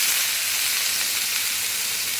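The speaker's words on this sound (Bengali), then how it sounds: "আলুগুলো আমি একটু হালকা করে ভেজে নেব।" Parboiled potatoes fry in oil, giving a loud, dense, close sizzle that hisses evenly through the whole short stretch with no voices.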